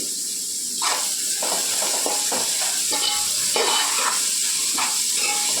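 Vegetables sizzle in a hot pan for vegetable fried rice, a loud continuous hiss broken by repeated bursts of scraping as they are stirred and tossed.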